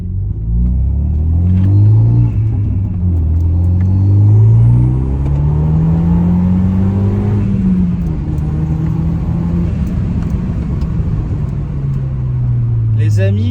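A Renault Megane 2 RS R26 accelerates and drives, its deep engine rumble rising and falling in pitch as it pulls through the gears, loud and close from inside the cabin, with voices over it.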